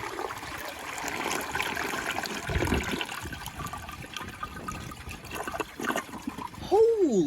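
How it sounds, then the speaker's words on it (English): A 1981 Eljer Emblem toilet on a flushometer gives a powerful, rushing flush that trickles and gurgles on for several seconds, with a person speaking over it. "now that has a lot more of a powerful flush than I was expecting"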